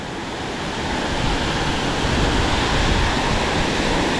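Powerful, continuous roar of a strong waterfall at Kulen Mountain, Cambodia, dense and steady throughout, heard up close, with no voices.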